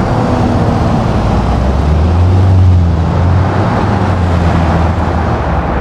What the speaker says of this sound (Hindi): टर्बो बहुत सही चल रही है गाड़ी की